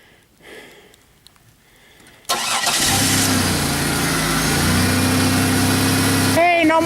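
A 2001 Pontiac Bonneville with an engine misfire cranks and catches abruptly after quiet, then settles into a loud, steady idle up close, with a voice speaking briefly near the end.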